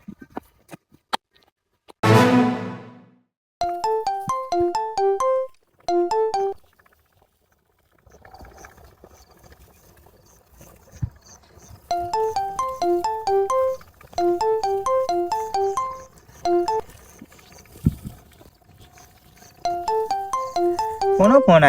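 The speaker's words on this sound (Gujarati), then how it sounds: "કોનો ફોન આવ્યા કરે છે" A mobile phone ringtone plays an incoming call, a bright repeating melodic pattern that sounds in several loud bursts separated by pauses, with speech and other brief noises between them.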